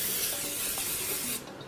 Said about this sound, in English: So just take my vegetable oil cooking spray